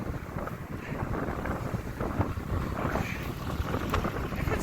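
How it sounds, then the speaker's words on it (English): Strong wind gusting outdoors by a roadside during a walk toward the interstate, a loud, steady roar buffeting the microphone without letup. "that wind is strong"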